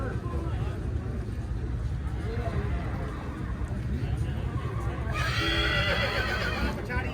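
A horse whinnies near the end amid a crowded, noisy horse market at the Maghi fair in Sri Muktsar Sahib, with constant crowd babble and bustle throughout.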